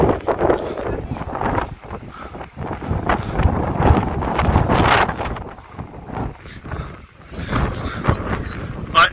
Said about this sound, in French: Désolé pour le vent les amis